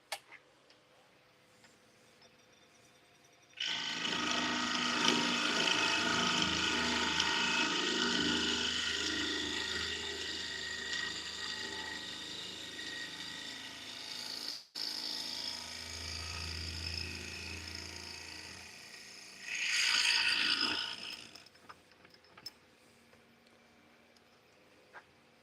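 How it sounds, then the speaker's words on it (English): A wood turning blank being drilled out on a lathe, a steady whirring drone with ticking that runs for about fifteen seconds, rises briefly near the end, then stops, at moderate loudness with no talk. "let's get this thing drilled out."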